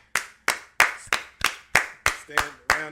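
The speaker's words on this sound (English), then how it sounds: "Stand up applause, man. Round of applause." A single person claps in slow, deliberate strokes, about nine sharp close claps spaced evenly, with a faint voice briefly underneath near the end.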